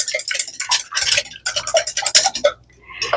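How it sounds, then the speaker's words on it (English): A whisk beats three eggs in a bowl, a quick run of light metallic clicks and taps against the bowl's side, close and fairly loud, with brief pauses between bursts. "I'm just going to take a whisk and just break them up a little bit."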